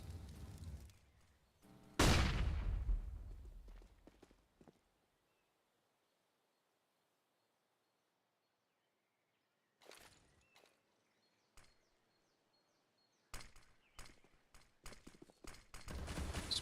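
A Counter-Strike match with HE grenades bursts in a loud close explosion, followed by scattered gunfire and footsteps, a long near-silent gap, then renewed bursts of shots and pops.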